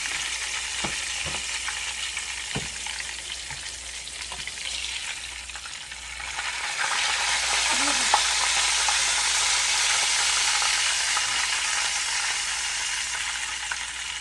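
Pork chops frying in a pan, a continuous loud crackling sizzle that swells louder midway, with a few utensil knocks and scrapes, close up and without talk.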